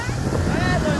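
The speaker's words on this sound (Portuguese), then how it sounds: "Ó, vai a lancha chegando aí, gente." A small motorboat approaches on the water, its engine a steady drone under heavy wind buffeting the microphone, with waves and a faint voice in the background.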